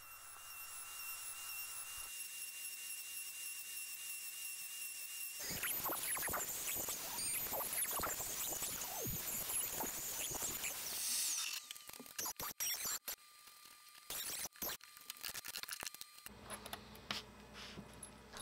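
A CNC router cuts the back cavities of an ambidextrous guitar body, giving a dense, continuous high-pitched whine of machining with rattly chatter. Several abrupt stops and restarts near the end break up the cutting.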